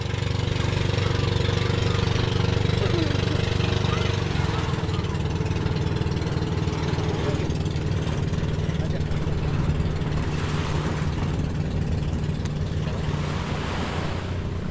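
A single engine on a large wooden outrigger boat drones steadily at sea, mixed with wind buffeting the microphone and the wash of waves, while people talk faintly.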